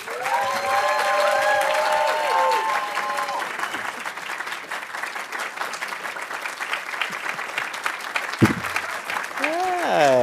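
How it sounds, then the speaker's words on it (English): An audience applauds at an arts awards ceremony, a dense sustained clapping crowd heard up close, with brief voices rising over it at the start and end. "There's been clapping for an hour."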